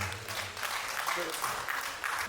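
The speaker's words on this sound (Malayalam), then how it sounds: "എല്ലാവരും നല്ലൊരു കൈയടി കൊടുക്കും. നമ്മുടെ പ്രിയങ്കരനായ അനൂപ് ടീച്ചർക്ക്" A crowd at a 1992-batch high school reunion claps for a teacher, steady soft applause throughout with voices faintly underneath.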